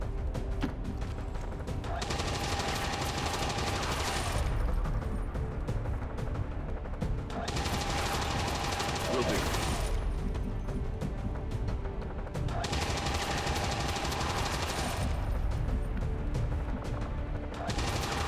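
Sustained suppressing gunfire in XCOM 2 (Long War 2 mod), loud, steady bursts that swell and fade in roughly three long waves with mechanical clatter underneath and no talk.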